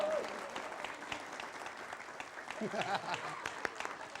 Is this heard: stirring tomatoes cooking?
no